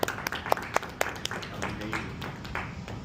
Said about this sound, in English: Round of applause for him quickly if we can.